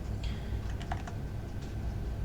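Rapid typing on a computer keyboard while writing smart contract code, a brief burst of close, light key clicks over steady room hum.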